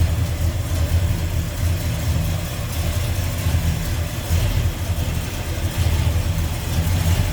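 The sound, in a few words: 1967 Ford F100 Ranger pickup engine running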